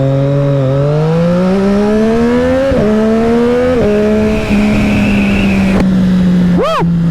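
A 2020 Triumph Street Triple 765 RS on a race track, its engine loud and close, climbing through the revs with sharp shifts and then a brief blip of throttle near the end.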